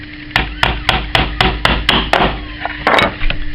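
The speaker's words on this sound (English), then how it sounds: "I'm using a small hammer." A small hammer taps panel pins into wood in quick, sharp strikes, about a dozen close, even knocks, followed by a brief flurry of lighter taps.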